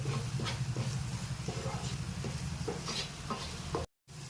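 Chili powder and salt masala frying in a pan for Telugu-style fish fry, a steady sizzle with soft rhythmic stirring scrapes, close and moderate, with a brief dropout near the end.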